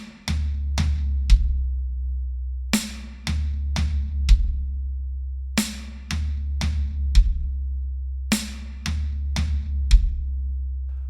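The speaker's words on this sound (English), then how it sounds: "our left hand is going to play the snare, followed by 2 right hands on the floor tom and a bass drum" A drum fill of a snare hit followed by two floor tom strokes and a bass drum, played slowly and repeated several times with clear gaps between the groups.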